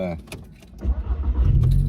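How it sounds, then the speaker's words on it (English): A 2011 VW GTI with an aftermarket APR intake and exhaust gives a low, swelling engine rumble that grows louder toward the end, heard close up. "It does have a little rumble because of this intake and exhaust."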